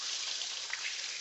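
A steady, faint rush of tap water runs as hands are wetted before folding rosemary lemon bread dough, an even hiss with no breaks and no talk.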